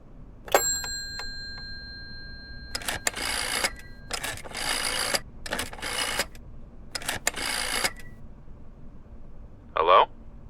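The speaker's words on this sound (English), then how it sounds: "Might as well make some good use of the phone while I'm here." A phone being used in Layers of Fear: a clicking handset pickup with ringing tones, then several bursts of loud electronic noise, a pause, and a short burst near the end, with a voice heard in between.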